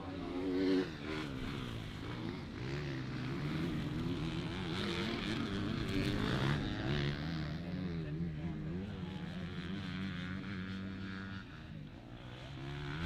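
Two-stroke Yamaha and Husqvarna motocross bikes race at a national-level pro event, engines droning and revving continuously at steady loudness under a commentator's voice.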